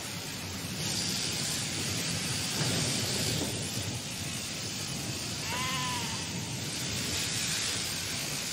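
Sheep bleat on a farm, one clear wavering bleat standing out over a constant noisy hiss, with fainter calls around it.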